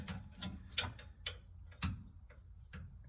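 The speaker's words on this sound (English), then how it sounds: "I'm using a swivel socket on top of that" Ratchet with a swivel socket tightening a rear shock bolt on a Chevy S10, a series of quick close metallic clicks in uneven bursts, fairly quiet.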